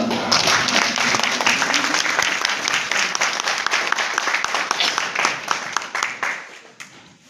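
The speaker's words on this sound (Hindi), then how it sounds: "जोरदार तालियां" Steady applause from a crowd at a TB-free India training programme at a government hospital in Azamgarh, dense and sustained, tapering off toward the end.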